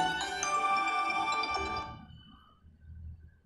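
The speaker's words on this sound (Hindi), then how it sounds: "देखिए ये कॉल भी आ गया" Kechaoda K10 mini phone ringing with an incoming call, a loud melodic ringtone for nearly two seconds that then cuts off, leaving faint low background noise.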